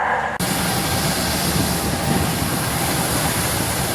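The Gaya Baru Malam Selatan passenger train rumbles and clatters steadily nearby as it arrives at Jatinegara station, loud rolling noise of railcars moving along the tracks after a brief quieter opening.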